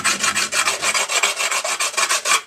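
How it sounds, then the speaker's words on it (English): Hand file draw-filing sharp metal edges smooth, a rapid, even rasping of about a dozen close strokes in quick rhythm, with no voices. "draw filing, just gently, and it takes all the sharp edges off and rounds it"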